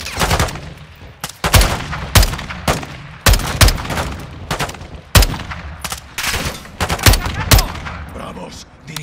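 Call of Duty: Modern Warfare 2 campaign combat brings loud, repeated gunshots and rapid automatic bursts with booming impacts, with radio voices talking under the firing.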